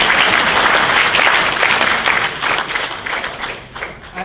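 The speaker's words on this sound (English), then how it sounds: "I think that applause needs to go" Audience applause at a university inaugural lecture, a full, loud burst of clapping from a large crowd that holds steady and then thins and fades over its last second or so.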